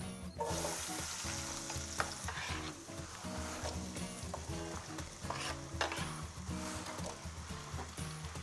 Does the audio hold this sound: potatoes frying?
yes